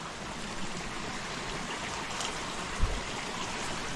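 Natural spring water flows steadily near a garden, a continuous soft trickling and gurgling with no voices, one brief low thump partway through.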